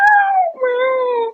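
A person's voice imitates a dog howling, two drawn-out wavering howls in quick succession, close and loud.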